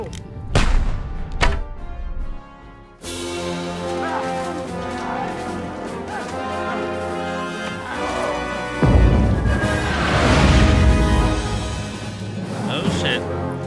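Battle gunfire in Kingdom Come Deliverance II, a medieval video game: a couple of loud early blasts, then dense battle din with a thick layered musical score and booming impacts, no talk.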